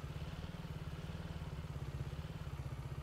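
A farm vehicle engine in Farming Simulator 22 runs at a steady low idle, a rapid even throbbing rumble with faint clatter, continuous and fairly quiet, with no talking.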